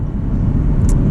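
A 2022 Audi R8 with a V10 engine and manual gearbox drives along, giving a steady, loud low rumble heard from inside the cabin with road noise and no talk.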